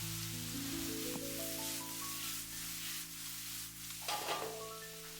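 White beech mushrooms and eggs stir-fry in a wok with a quiet, steady sizzle and hiss, and gentle stirring scrapes, all under a melodic musical backing.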